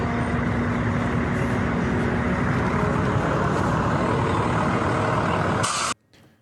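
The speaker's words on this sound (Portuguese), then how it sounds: "ônibus saindo para o seu destino" Buses departing a bus station give a loud, steady diesel rumble with broadband hiss close by, which cuts off abruptly near the end.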